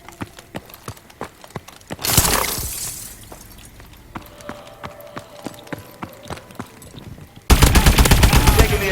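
Rapid bursts of AE4 Widowmaker gunfire in a video game, sharp repeated shots crackling across the clip, with two loud sustained barrages that stand out, no talking.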